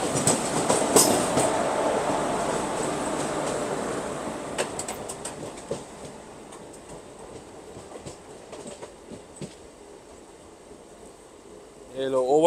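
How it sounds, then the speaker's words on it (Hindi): Rail noise from a MEMU passenger train speeding up as it passes a freight train near Rairu station in Madhya Pradesh, a steady loud rumble with faint clatter that fades slowly, ending in a brief rising tone. "फाइनली अब हम लोग ओवरटेक करने वाले हैं इस मालगाड़ी को।"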